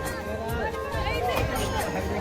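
A dense crowd fills Hanumangarhi temple in Ayodhya, a steady babble of many overlapping voices surrounding the listener, with nearer speech standing out from the murmur.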